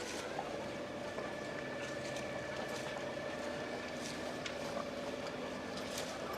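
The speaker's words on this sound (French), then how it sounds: "Avec les petites manœuvres de départ et le moteur qui s'en va." A departing boat's engine hums low and steady beneath faint water sounds, with occasional light knocks, holding constant rather than fading away.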